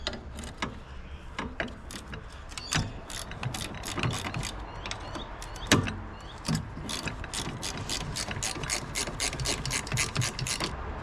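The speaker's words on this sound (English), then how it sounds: "I'm hoping now I can just slip a 24mm socket in there and undo it without pulling it all off." A ratchet fitted with a 24mm socket undoes a foot-pedal bolt on a Yanmar excavator, giving close, rapid bursts of metallic clicking with short pauses between strokes.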